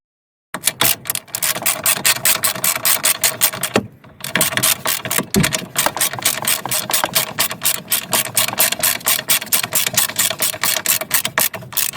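Power tool driving and tightening bolts into a Volvo XC60 lower suspension control arm, a dense, rapid rattling impact buzz running almost continuously after a short silence, with one brief pause near the middle, loud and close with no talking.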